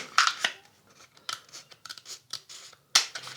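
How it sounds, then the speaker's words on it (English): Scissors cutting a cardboard tube in a series of crisp, close snips and crunches, irregularly spaced, with a loud final cut near the end. "And then cut along the tube."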